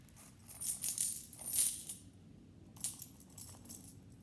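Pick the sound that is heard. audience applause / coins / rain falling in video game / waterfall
coins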